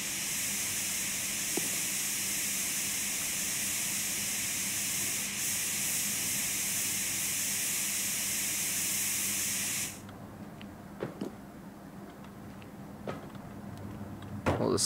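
A spray gun paints a truck in the Diesel Brothers Truck Building Simulator game with a loud, continuous hiss for about ten seconds. It then stops abruptly, and a few faint clicks and thumps follow.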